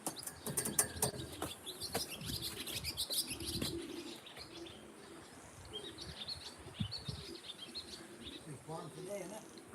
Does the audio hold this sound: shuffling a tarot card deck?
no